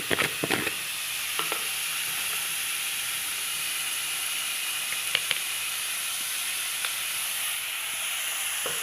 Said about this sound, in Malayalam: ശേഷം നമ്മൾ സവാള നന്നായിട്ട് കുരുകുരാന്ന് അരിഞ്ഞതും വെളുത്തുള്ളി ഇട്ട് നന്നായിട്ട് മൂപ്പിക്കുക